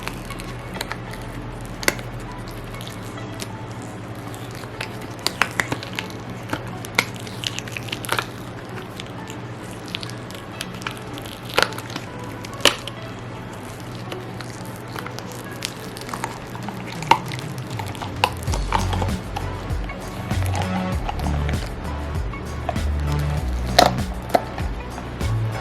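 A cast resin candle holder set with real dried flowers is worked loose from its mold, giving scattered soft creaks, taps and squishy pulls, quiet and close, with a steady low hum underneath and no talk.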